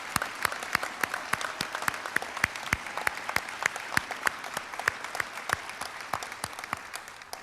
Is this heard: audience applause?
yes